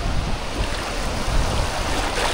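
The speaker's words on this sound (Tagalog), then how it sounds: "Malakas yung alon" Steady broadband wash of strong sea waves rolling and surging close by on a beach at Umm Al Quwain, continuous and fairly loud with no voices.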